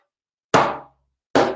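Two deep bass strokes on a hand drum, struck close and loud about a second apart, each booming briefly then decaying, with silence around them.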